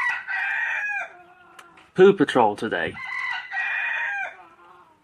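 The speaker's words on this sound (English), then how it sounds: "Sorry about the rooster." A rooster crows loudly nearby on a country homestead, two long drawn-out calls framing a brief burst of speech in between.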